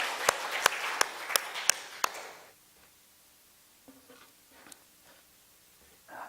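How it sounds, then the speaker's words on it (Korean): Church congregation clapping together in a short burst of rhythmic applause, several sharp claps in a row that fade into quiet room noise with a few faint scattered sounds. "여러분 한번 다시 한번 박수 한번 하시면서 격려하시고"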